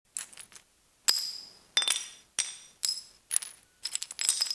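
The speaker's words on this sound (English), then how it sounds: "I found some pieces of broken tile on the road, dropped them on the pavement, and they made really nice sounds" Pieces of broken tile dropped onto pavement, giving about eight separate bright, sharp clinks and clatters, each with a short ringing tail, spaced irregularly and heard close up without other sound.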